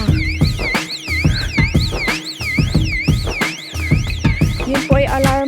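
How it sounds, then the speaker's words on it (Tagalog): A warning alarm on a hiking trail that alerts people to wild pigs, blaring loud and close. It repeats a wailing, siren-like rising and falling tone over and over with pulsing beats underneath, and no one talks over it. "Yun po ay alarm para sa tao at sa baboy."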